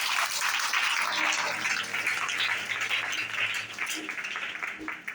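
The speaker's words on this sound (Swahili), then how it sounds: "So pigie tu Yesu makofi jameni." A church congregation claps for Jesus, steady dense clapping for several seconds that gradually softens toward the end, with voices faintly mixed in.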